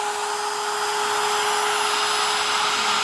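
A Drill Master trim router from Harbor Freight, a single-speed tool, running alone with a steady high whine that rises slightly in pitch as it speeds up.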